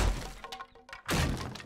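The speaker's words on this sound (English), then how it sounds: "Gonna break this door." Wooden door being smashed in 7 Days to Die Alpha 20, with a loud crashing impact, a few lighter knocks and a second heavy breaking crash close by.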